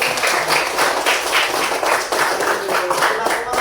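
A class of students claps their hands together in a classroom during a coding and artificial intelligence lesson, giving a steady, fairly loud burst of rhythmic clapping that lasts a few seconds.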